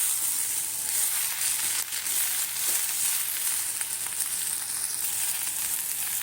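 Chopped tomato and vallarai greens sauté together in a hot pan for chutney, giving a steady, close, dense sizzle and crackle from start to finish, with no talking.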